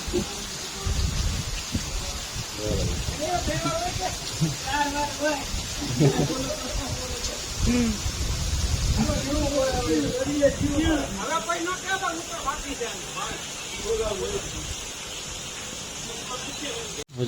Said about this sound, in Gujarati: વરસાદ ચાલુ છે એક કલાક થઈ છે